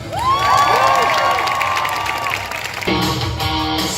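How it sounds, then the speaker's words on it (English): At the Halifax Buskers festival on the waterfront, a crowd cheers and applauds a street performer, with whoops and a loud sustained shout over clapping and crowd noise, outdoors and fairly close. "applause."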